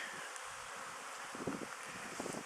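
Honeybees on a cleansing flight at an apiary, buzzing continuously as a dense swarm hum close by, with no voices.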